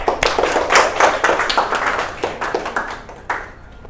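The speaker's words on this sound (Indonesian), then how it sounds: "Silakan tepuk tangan." A burst of applause, many hands clapping in a dense, steady patter that gradually thins out, with a few louder claps near the end.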